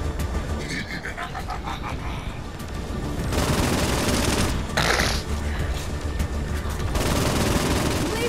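Gunfire in Saints Row IV: scattered shots and bursts crackle over a constant noisy game background, with voices talking intermittently and the shooting growing denser toward the end.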